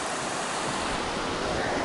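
Steady rushing river water along the Pacific Crest Trail near Muir Pass, a broad continuous roar of flowing current heard up close with no voices over it.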